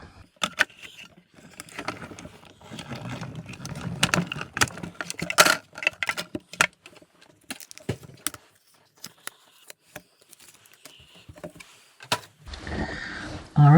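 Die-cutting machine cranking card stock through with a number 2 plate for a lamb baby card, a run of close, irregular mechanical clicks, rattles and grinding over several seconds, ending in a louder rolling rumble.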